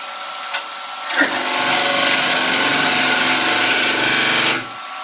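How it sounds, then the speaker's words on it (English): A small fishtail skew cuts a wood spindle turning on a lathe, a continuous close rasping, hissing shave lasting several seconds before lifting off, preceded by a faint tap and the motor's soft hum. "I'm going to use a little fishtail skew."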